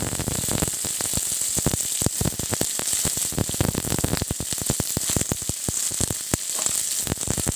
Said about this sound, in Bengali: কাঁচা লঙ্কা একটুখানি ভেজে নিয়ে তারপরে ক্যাপসিকামের টুকরোগুলো দিয়ে দেবো